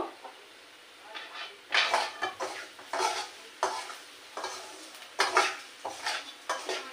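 Food fries in a pan while a utensil scrapes and stirs in repeated bursts, close up, with short pauses between strokes and a light sizzle underneath, no talking.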